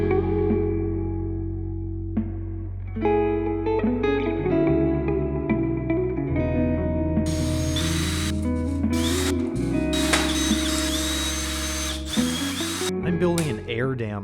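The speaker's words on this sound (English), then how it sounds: "I used a router to round the leading edge of the splitter for better air attachment" A router rounds the leading edge of a car's front splitter for a Toyota MR-S. A harsh, whining cut builds in the middle and runs for several seconds beneath loud, steady music.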